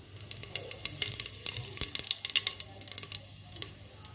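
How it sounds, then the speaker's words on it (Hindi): A spoonful of cumin seeds dropped into hot oil, crackling and popping in quick irregular bursts over a close sizzling hiss, with no talking. "ऑयल हो चुका है गर्म, तो सबसे पहले हम इसमें डालेंगे एक चम्मच ज़ीरा"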